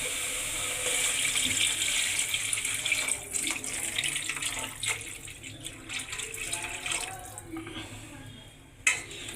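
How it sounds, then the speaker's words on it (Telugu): Steady stream of water running and splashing into a cooking pot for several seconds, then ending with a brief knock. "దీంట్లో 2 గ్లాసులు వాటర్ వేసుకోవాలి"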